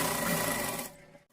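A sewing machine stitches fabric and lining for a small deity outfit, a brief, loud, close mechanical whirr that stops abruptly.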